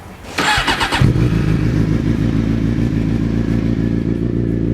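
A 2007 Suzuki GSX-R 600 sport motorcycle engine cranks briefly with rapid clattering, then fires up and settles into a steady, loud, rumbling idle close by.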